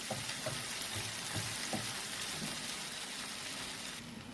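Parshe fish stirred while frying in oil for a tel jhal, a soft continuous sizzle with a few faint stirring knocks near the start, fairly quiet and steady with no talk.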